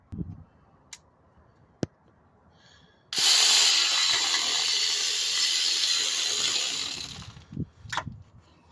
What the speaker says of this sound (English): so let's go ahead and tighten those two bolts.